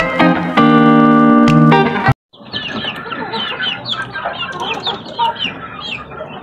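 Young chicks chirp and cluck busily up close at feeding time, a dense chatter that follows a brief burst of music.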